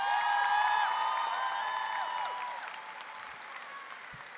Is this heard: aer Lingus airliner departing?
no